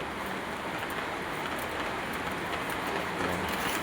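A sudden rain shower falls, a dense, even hiss of drops on surfaces, moderately close and steady throughout with no voices.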